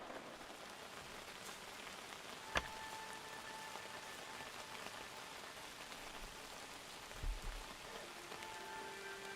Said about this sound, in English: Yeah, it looks like rain.